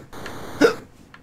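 A person hiccups once sharply in the middle, with a fainter second catch near the end, over a quiet room background.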